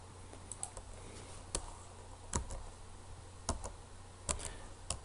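Keys clacking on a computer keyboard during data entry into an electronic health record, a handful of separate sharp taps spaced about a second apart over a low steady hum, with no talk.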